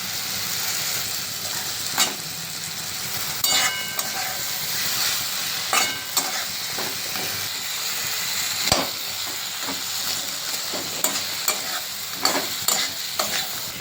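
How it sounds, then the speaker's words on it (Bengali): Fish head frying in a hot pan for moong dal, with a steady close sizzle broken by repeated clinks and scrapes of stirring, and no voices. "এর মধ্যে এবার মাছের মাথা দিয়ে দেবো আমি"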